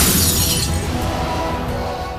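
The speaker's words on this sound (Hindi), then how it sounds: "शीशे का गुलदान हवा से गिरकर टूट गया" A glass vase falls and shatters indoors, with one loud sharp crash followed by a brief scatter of tinkling fragments that fades out.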